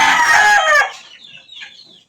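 A fighting gamecock crows loudly and close by, and clucking from the birds follows softly; they have just finished feeding on a gamefowl farm.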